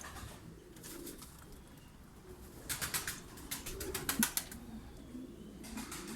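Hünkar pigeons coo inside a pigeon coop. Soft, low coos sit far back under a quiet background hum, and a burst of wing flapping or scuffling comes in the middle.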